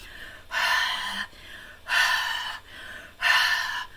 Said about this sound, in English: So I'm going to breathe, exhale